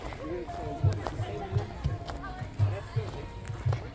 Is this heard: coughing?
no